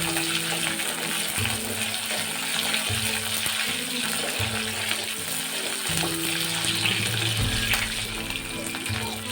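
Onions, curry leaves and dried chillies sautéing in hot oil for a dry prawn chutney, giving a steady close sizzle throughout with faint stirring movements and no talking.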